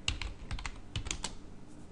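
A computer keyboard is typed on in a quick, close, quiet run of clicks as a terminal command is entered, alone without any talk.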